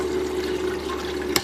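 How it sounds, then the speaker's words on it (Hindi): Submerged water pump running inside a homemade air cooler filled with water, a steady close watery churn and hum that continues evenly, with a brief sharper splash or click near the end. "और अब गाइस मैं आपको पंप चला के दिखाता हूँ, अब बात सुनना।"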